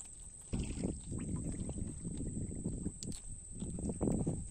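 A small wooden boat on the water in the Sundarbans knocks and sloshes, with irregular hollow thuds and splashy bursts against a background hiss and faint wind.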